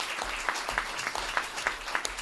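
Crowd applause at an Italian political campaign event in Chieti, honoring a late former mayor; steady dense clapping throughout, moderately loud and continuous with no voices.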